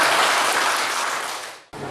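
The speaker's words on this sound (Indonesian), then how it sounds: "Tepuk tangan untuk Mas Hanto." Sustained applause from a crowd at a NasDem party regional working meeting in Kediri, dense and steady for nearly two seconds, then cutting off abruptly before a brief resumption.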